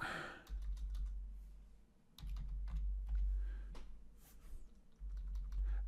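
Fingers tap out short bursts of keystrokes on a computer keyboard, close and quiet, with brief pauses between clusters of clicks over a low background hum.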